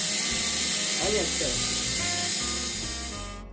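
A repaired Zelmer electric meat grinder runs with a steady motor hum and gear whir close by, a couple of brief voice-like sounds near the start, then the motor winds down and stops at the end.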